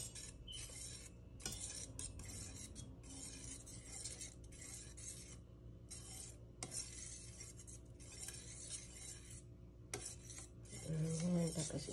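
Ten egg yolks stirred slowly in a bowl, a utensil scraping and clinking against the sides in repeated gentle strokes, close up with no speech.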